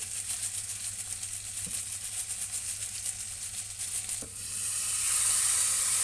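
Spices and garam masala powder fry in a pan for a spicy rohu fish curry, a loud continuous close sizzle with two faint utensil taps, swelling into a brighter hiss near the end, with no voices.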